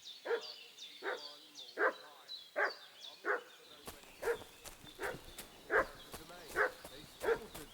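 A dog barks in a medieval village in Kingdom Come Deliverance II, about a dozen evenly spaced barks from fairly close, with a faint background hum joining partway through.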